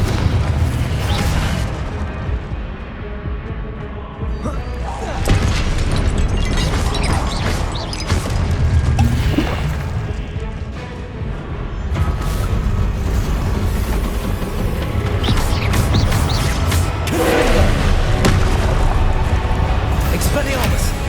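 Confringo blasting spells explode again and again in the Hogwarts Legacy video game, with loud, deep booms and crashes landing in bursts over continuous game noise while a voice shouts over them.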